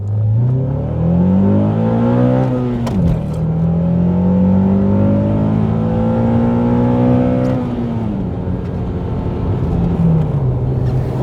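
Close, loud revving from a Honda Accord CL9 after an intake resonator delete, climbing to a held high note, dropping, then rising and sustaining again before settling.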